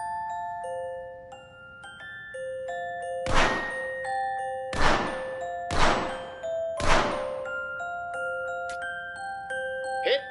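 Targets in The American Dream PSVR video game are hit by shots, giving four loud, ringing impacts spaced about a second apart, set over a soft musical background of sustained tones.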